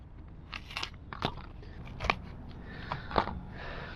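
Carbon fiber protection tape being cut, a handful of sharp, crisp snips and crunches spaced about half a second to a second apart, close and fairly quiet, with no one talking.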